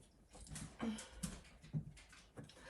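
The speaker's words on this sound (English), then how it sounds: "My dogs are in here, so just please ignore their tippy tapping." Faint, irregular clicks of dog claws tapping on a hard floor, a handful of scattered taps with soft shuffling between them and no talking.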